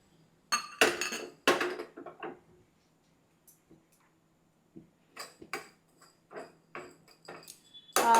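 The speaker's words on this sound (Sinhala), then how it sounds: "දැන් අපි මේකෙම පෙපර් එක චුට්ටක් ෆ්‍රයි කරගමු." White and black pepper dry-fried in a pan without oil: sparse, close metallic clinks and scraping rattles from stirring, in short bursts separated by quiet gaps.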